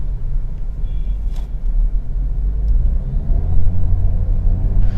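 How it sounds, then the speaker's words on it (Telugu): A Volkswagen Virtus 1.5 TSI GT with a DSG gearbox makes a low, steady engine rumble from inside the cabin, its tone rising slightly toward the end, with no talking. "so up shift RPM sound అనేది వినిపిస్తుంది"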